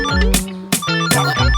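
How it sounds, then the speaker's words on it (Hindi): A mobile phone ringtone sounds indoors at a wedding venue, a loud, close, repeating melodic ring of bright tonal bursts with short gaps, with no talking over it. "फोन बज रहा है आपका।"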